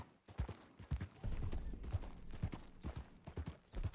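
Horse hooves clopping in the video game Red Dead Redemption 2: a regular run of close, distinct hoof strikes at a steady walking rhythm, fairly quiet and unbroken by speech.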